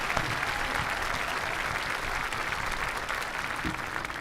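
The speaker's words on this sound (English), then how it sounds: "Audience, please join me in giving them a round of applause." The crowd at a 2025 high school graduation applauds continuously, a broad, even roar of clapping hands that stays loud and steady for about four seconds with no speech over it.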